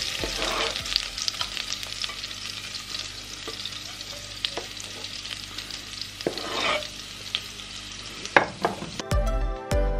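Shallots fry in butter over lowered heat with a steady close sizzle and crackle, punctuated by spatula stirring scrapes and a knock near the end.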